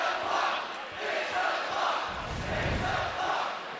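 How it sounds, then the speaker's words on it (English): Basketball crowd at a Saint Mary's at Utah State college game chanting and yelling together in a loud, continuous roar that swells and ebbs, filling the arena. "The crowd is yelling, "Fix that clock.""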